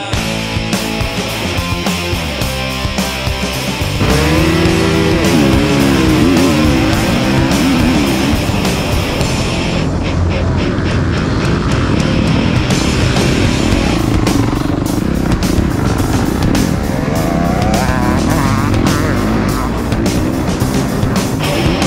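Motorcycle engine revving loudly as the clutch is dropped, a sustained roaring drone that surges and holds with rising and falling pitch sweeps, close and continuous throughout.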